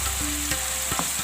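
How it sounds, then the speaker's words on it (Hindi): Masala sizzling in a pan with yogurt and cream added, a short burst of steady frying hiss with a few faint stirring knocks. "भूनेंगे अच्छे तरीके से मसाले को"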